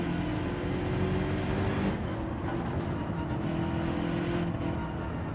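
A BMW GR.3 race car in Gran Turismo 7 with a steady loud engine drone at high revs, a brief shift in tone around the two-second mark, then sustained running without pause.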